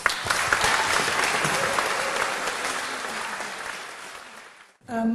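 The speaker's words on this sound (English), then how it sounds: "A round of applause, please." Sustained audience applause fills an awards ceremony hall at Stationers' Hall in London, a dense, steady clapping that fades out near the end before a voice begins speaking.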